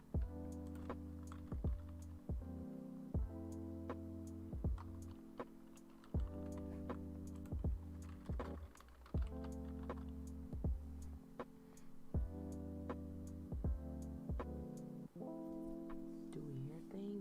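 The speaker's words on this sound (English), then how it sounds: "I typing." Computer keyboard typing clicks along in an irregular run of close keystrokes, with a steady low electronic tone sitting underneath throughout.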